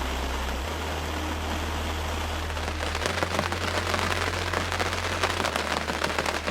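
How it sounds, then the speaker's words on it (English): Heavy October rain falls at a UK carp fishing lake, a constant wash of patter that thickens partway through over a low steady hum. "Well, it's still raining."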